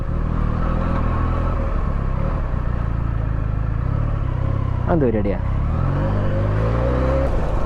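A Benelli TNT 300 motorcycle engine hums steadily up close, cruising in fourth gear at about 32 to 33 km/h, with a brief rising rev mid-way and a voice talking over it.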